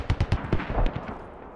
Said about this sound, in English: Someone's firing artillery upon some friendlies.